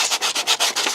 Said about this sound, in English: I've done a little bit of sanding on the handle on this one